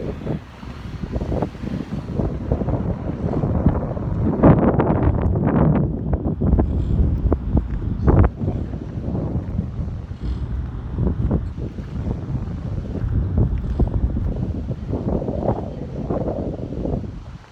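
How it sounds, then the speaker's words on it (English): Steady wind buffets the microphone outdoors, a low rumbling roar with gusty thumps throughout, no voices heard. "Kind of a windy day."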